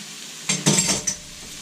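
Onions, green pepper and garlic sautéing in a pan for picadillo bring a short cluster of spatula scrapes and light clinks over a faint sizzle, then quiet.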